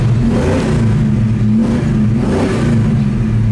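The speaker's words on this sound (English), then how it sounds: "This car sounds nice, not overbearing, just a nice crisp sound" A steady, near V8 rumble from an Oldsmobile 442 classic car holds a continuous low throb with gentle swells of revving, loud and alone with no talk.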